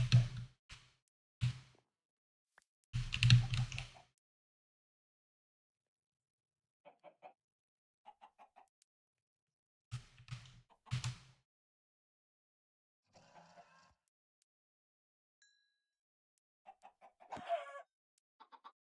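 Minecraft chickens on a survival server clucking in short, scattered bursts, some close and loud, others quieter, with long silent gaps between them.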